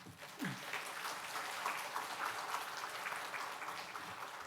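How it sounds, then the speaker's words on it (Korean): Congregational applause in a church as a pastor is welcomed, a steady wash of many hands clapping at moderate level throughout, with a brief voice-like sound near the start. "우리 박수로 환영하겠습니다"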